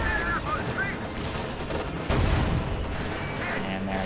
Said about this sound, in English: The center is almost completely clear except for these two machine guns.